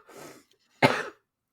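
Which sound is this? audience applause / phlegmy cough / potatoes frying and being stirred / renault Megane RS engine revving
phlegmy cough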